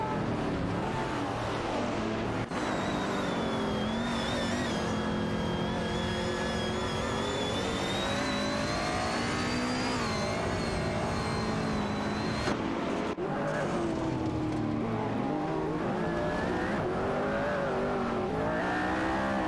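AI-driven race cars in a racing video game, engines droning and revving steadily and loudly throughout as cars overtake one another, with brief shifts in pitch.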